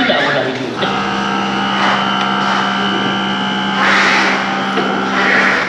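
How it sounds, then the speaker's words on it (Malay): A Benda LFC 700 motorcycle's air suspension adjusting itself, a steady electric pump whine with a constant low hum running for several seconds, rising in intensity briefly near the end. "Itu adalah bunyi air suspension ya."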